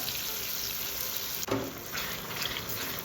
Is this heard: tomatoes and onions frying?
yes